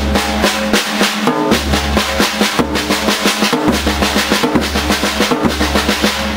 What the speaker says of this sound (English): now I'm going to put the bass drum on the second beat,